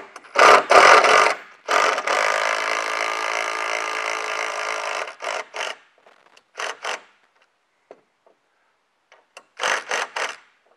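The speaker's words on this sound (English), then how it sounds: "I'm going to use my impact, my trusty impact wrench here to put these on" Impact wrench fitting bolts with flat washers on a Hoist-A-Top rack rattles in several bursts, a long hammering run followed by shorter quick zips and then silence, close and loud, with no talking.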